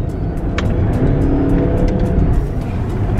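A car engine runs loud and continuous at close range during amateur motor racing, a dense steady roar with faint tyre noise and no clear rise in pitch.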